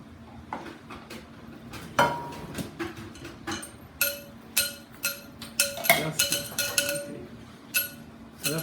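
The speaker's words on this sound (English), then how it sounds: "That's your little bracelet doing that." A metal bracelet clinks against a bowl as batter for a cornbread casserole is stirred, producing repeated light, bright taps in an irregular rhythm, fairly close and moderately quiet.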